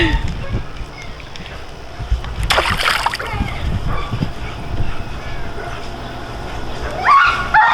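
A crab snare tossed into water lands with a single loud splash near the listener, with a dog yipping and whimpering nearby and someone talking around it.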